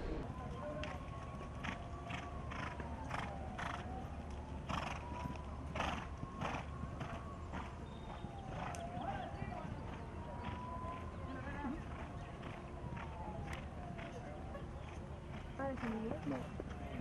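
Horses at an equestrian show jumping competition in Pondicherry: hoof clip-clops and an occasional whinny, set against steady background noise and heard under a voice.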